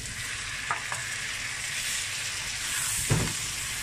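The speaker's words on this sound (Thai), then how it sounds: "เตรียมกุ้งมาใส่เลยค่ะเอากุ้งลงไปใส่เลยนะจ๊ะ" Shrimp dropping into a hot pan of butter and garlic set off a steady, close frying sizzle with a couple of soft knocks and a brief louder burst near the end; no one speaks.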